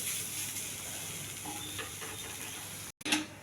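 Coriander stalks sizzle and fry in a pan while being stirred, a steady soft hiss with faint scraping, briefly cutting out before resuming.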